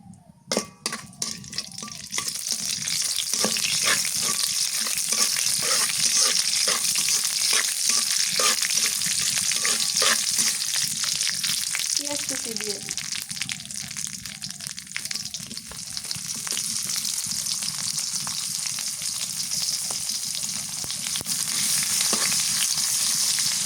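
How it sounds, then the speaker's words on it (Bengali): Panch phoron, whole cumin and black cumin sizzle in mustard oil for dal, a loud, steady frying hiss with small crackles and occasional light clinks of a utensil, close and continuous throughout. "দিয়ে দিই পাঁচফোড়ন আস্ত জিরা কালো জিরা এগুলো দিয়া তেলানি করলে ডালটা মজা হবে বেশি"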